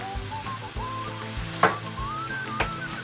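Seabream with garlic, onion, ginger and tomato cooks without oil in a Saladmaster pan, giving a steady close sizzle with soft stirring scrapes and a few sharp clinks, while a faint whistling tone drifts above.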